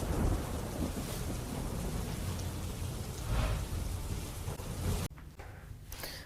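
Heavy rain pours down in Gadhada, Botad, Gujarat, a dense, loud, continuous hiss with deep rolling thunder swelling in the middle before the downpour suddenly thins.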